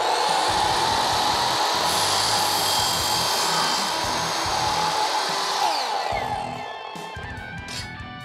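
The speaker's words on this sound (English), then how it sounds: "so we are going to have to cut it down, and you can just do that with your miter saw" A miter saw cuts through aluminium T-track: a loud, steady high-pitched whine with grinding cutting noise, which winds down as the blade spins to a stop near the end.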